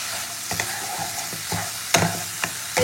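Cumin and green chili paste frying with tomato paste in hot oil, steady sizzle with repeated scraping stirs of a spoon in the pan, close and alone.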